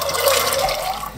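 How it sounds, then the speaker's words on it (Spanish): Water pours steadily into a pot of soaked chickpeas for a Castilian cocido stew, giving a continuous close splashing and trickling rush with no talk over it. "vamos a añadir un poquito más de agua"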